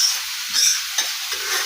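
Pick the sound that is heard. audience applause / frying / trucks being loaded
frying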